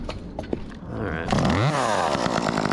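A chainsaw used to remove a tree sputters, then revs up loudly and runs close by, the engine pitch rising and wavering under load.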